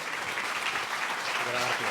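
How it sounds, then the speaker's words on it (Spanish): Audience applause at a talk on measuring happiness, greeting the guest speaker, a dense steady wash of clapping filling the whole stretch with some voices mixed in. "Alejandro, vamos a recibirle con un fuerte aplauso"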